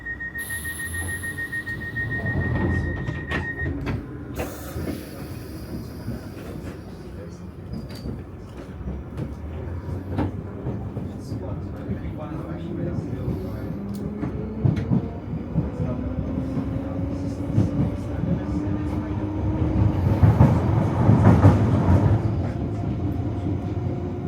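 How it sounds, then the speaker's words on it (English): A London Underground Piccadilly Line train rumbles along the tracks toward Heathrow, with a steady roar that swells near the end, a whistle-like tone early on and faint announcement voices. "This is a Piccadilly Line service to Heathrow Terminals 2 and 3"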